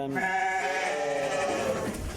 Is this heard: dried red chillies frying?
no